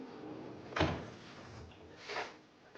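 A kitchen cutlery drawer slides open and then shuts again, two soft rumbling movements about a second apart in a quiet room.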